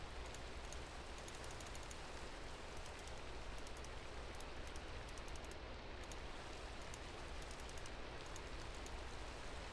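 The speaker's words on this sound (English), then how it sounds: "And it's raining." Rain falling in the Minecraft FTB Revelation modpack makes a steady, even hiss of drops on surfaces, unbroken and constant throughout at a low, soft level.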